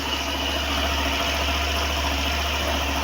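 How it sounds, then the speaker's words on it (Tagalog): A Suzuki Avenis scooter idles steadily at close range, a constant mid-pitched engine hum with a buzzing vibration that never changes level, with no talking. "umaandar siya. Yung gulong umiikot."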